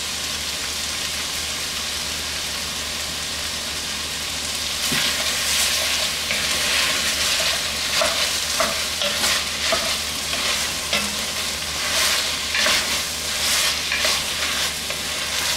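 Pancit canton noodles stir-frying with oyster sauce and soy sauce, a steady hiss of sizzling that grows louder midway, with repeated scraping and tossing strokes from close by.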